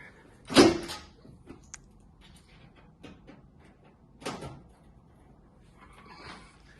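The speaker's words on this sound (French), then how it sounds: "Ouverture de la porte avec la clé fournie." The door of a Bolero Turbo machine is unlocked and opened with the supplied key: a sharp click-clunk near the start, a second latch knock a few seconds later, with faint handling noises between.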